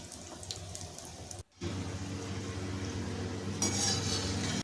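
Potato roll samosas fry in hot oil while being turned, giving a steady, close bubbling hiss that cuts out briefly near the start before resuming evenly, with no talking.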